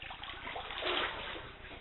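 Knee-deep floodwater sloshes and swirls inside a house flooded by Hurricane Igor in Paradise, Newfoundland, a close, continuous watery rushing with a brief swell in the middle.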